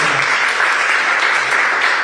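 Church congregation at a GKSI service in Batam claps steadily, a continuous wash of applause from many hands, even and moderately loud throughout with no talk over it.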